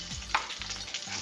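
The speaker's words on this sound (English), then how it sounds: "That's the ambience this kitchen is missing. Some sizzling foods." Breakfast pizza ingredients sizzling in a kitchen pan, a soft, steady frying hiss with light stirring scrapes and small clinks, close and fairly quiet, no voices.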